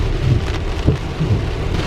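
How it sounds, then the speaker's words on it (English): Moderate rain falls steadily and fairly loudly, a dense, even patter with low rumbling underneath, continuous across the short stretch and with no voices. "Yeah, when I said moderate rain, I meant moderate rain."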